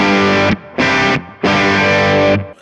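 A low-gain, creamy electric guitar tone from a Kemper with the 1DS switched off sounds three strummed chords, each held and then choked, close and clean-edged with mild grit and no speech.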